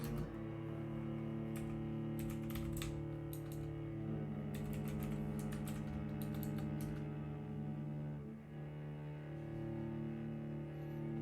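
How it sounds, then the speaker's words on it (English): Rapid bursts of loud computer keyboard typing, clustered clicks in quick runs with pauses, over a steady electronic hum. "Loud keyboard noises."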